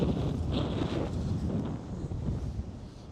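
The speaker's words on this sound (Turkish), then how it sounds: "bilmiyorum rüzgarın şiddeti ne derece belli ama aşırı bir rüzgar var" Heavy wind buffets the microphone in a continuous low roar, loud and close, with no voices, in an open sugar beet field.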